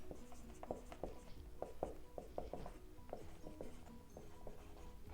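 A teacher writing on a board during a biology lecture, with faint scratchy strokes and taps in an irregular rhythm, quiet and alone.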